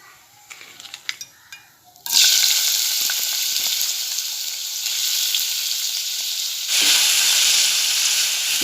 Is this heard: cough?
no